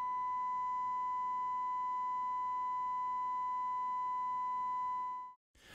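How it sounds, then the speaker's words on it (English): A steady pure test tone from a small general-purpose audio power amplifier driving a 16 ohm load, holding constant for over five seconds, then cutting off abruptly with a brief click. "This is the output of the amplifier into a 16 ohm load."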